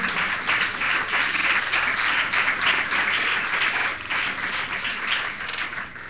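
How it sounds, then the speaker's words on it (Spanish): A church congregation clapping during a Spanish-language service, sustained dense applause from many hands, fairly loud and even, easing slightly toward the end. "dele palmas al Señor"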